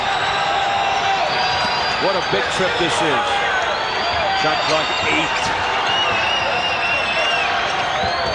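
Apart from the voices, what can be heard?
basketball arena crowd cheering for the Warriors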